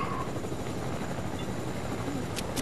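A video game helicopter drones steadily and loudly with a dense, thrumming rotor rumble, plus a few faint high blips near the end.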